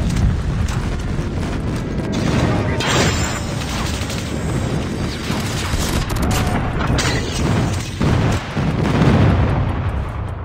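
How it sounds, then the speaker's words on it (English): Airstrike explosions in Call of Duty Mobile: a dense, continuous barrage of booming blasts and rumbling impacts mixed with mechanical clatter, loud and sustained throughout with a few sharper bursts near the end. "Friendly airstrike incoming."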